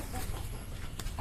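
Barred Plymouth Rock chickens in a farm coop cluck softly in a brief snippet, a few low fowl murmurs under steady background noise.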